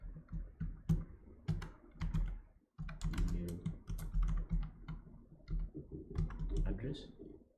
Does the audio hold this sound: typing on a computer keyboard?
yes